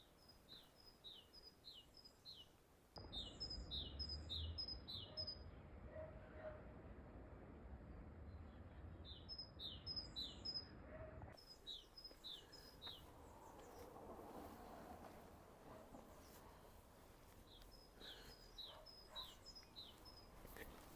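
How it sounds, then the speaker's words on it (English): A great tit sings repeated high two-note phrases on a spring walk up a hill, faint and distant over steady outdoor rumble and footsteps. "Great tit up there."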